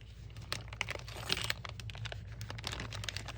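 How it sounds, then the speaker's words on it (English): Paper crunches and crinkles in scattered bursts while a grungy journal is being made, faint and close at hand over a steady low hum, with no voices. "Lots of crunching noises, sorry."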